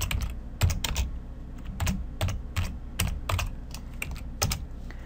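Keys clatter on a computer keyboard in quick irregular bursts of close, crisp clicks, with short pauses between clusters of keystrokes.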